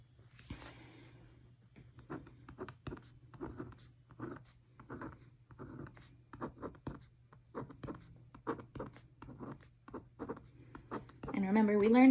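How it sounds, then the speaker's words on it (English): A black pen writing on a hard surface, giving steady soft scratchy strokes in short repeated bursts, close and fairly quiet, with a brief voice near the start and a louder tonal sound at the end. "I think I'm going to write this in with a black pen so that it shows up really well."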